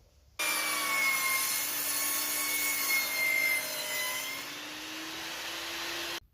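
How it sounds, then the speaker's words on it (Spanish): A saw disc cuts into a wooden window arch, a sustained loud whining grind that starts abruptly, holds steady for about six seconds with slight pitch drift, then stops sharply. "lo que voy a hacer es acostar un poquito más el disco. Y hago otro corte de proximidad."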